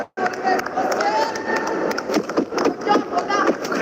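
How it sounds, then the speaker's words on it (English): Esports arena crowd cheering and roaring after a big fight in a live Esports World Cup match, a loud sustained swell of many voices with sharp shouts throughout. "Crowd goes crazy down there out of that fight."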